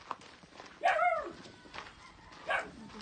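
Dog barking outdoors on a farm: a couple of short, fairly close barks and yips, one near the start and another toward the end, over faint rustling and movement.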